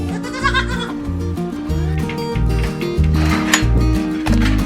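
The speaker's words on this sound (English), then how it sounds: "How are the baby goats?" Nigerian Dwarf goats, including kids, bleat repeatedly over a busy, rhythmic background, their wavering cries rising and falling close by.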